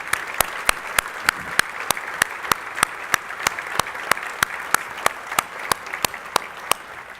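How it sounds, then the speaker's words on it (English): Steady, evenly spaced hand claps of audience applause, about three per second, crisp and close, continuing without a break. "let's give them just a little round of applause"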